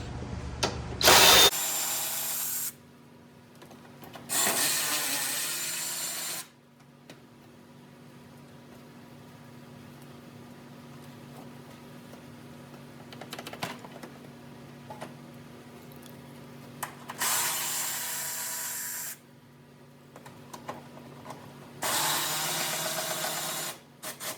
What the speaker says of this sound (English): remove your 4 10mm bolts from your radiator support brackets